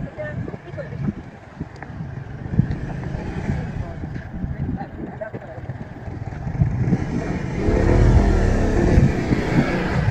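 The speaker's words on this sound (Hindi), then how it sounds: "ये देखिए हमारा मोटरसाइकिल स्टार्ट हो गया है" Motorcycle engine idling steadily after a start in a village setting, a continuous low rumble with some wind buffeting that grows louder toward the end.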